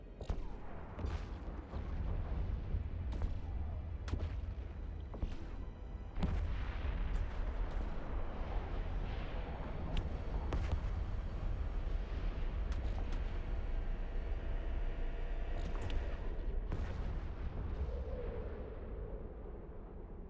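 Turrets blasting away in the space game EVE Online, heavy booming shots landing one after another over a continuous deep rumble, loud and close throughout twenty seconds.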